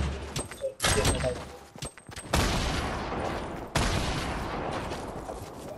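Video game gunfire crackles in several loud bursts with sharp onsets, separated by short pauses, over a dense, continuous noisy backdrop.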